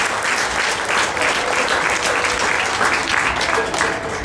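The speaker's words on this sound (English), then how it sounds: "Let's give them all a nice round of applause." Spectators at the Will County Fair steer show clap for the grand champion steer class, loud, dense applause holding steady throughout without pause.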